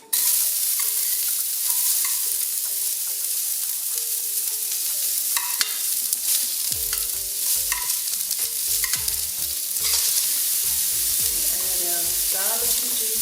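Chopped onions hit hot oil in a pan and set off a loud, continuous sizzle, stirred and shuffled with a utensil that adds occasional scraping knocks, and nobody talks.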